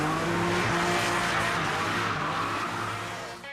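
A restored old Porsche 911 drives fast, its engine roaring loud and steady close by with a hint of tire squeal, easing off slightly toward the end.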